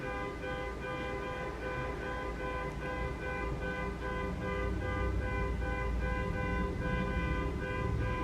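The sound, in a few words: car alarm honking outside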